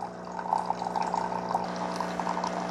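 Single-serve coffee maker brewing an 8-ounce cup through a reusable K-cup, a soft continuous trickle and gurgle of liquid running into the mug under a faint machine hum, with no talking.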